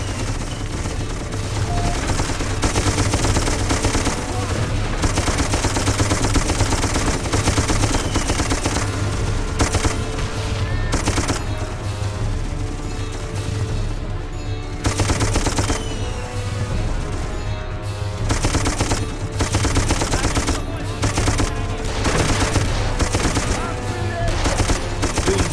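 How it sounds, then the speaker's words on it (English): Mounted machine gun laying down cover fire in the video game Darkest of Days: long, loud, relentless bursts of rapid automatic fire with brief pauses, layered over surrounding battle noise. "Get your ass on that gun and provide cover fire"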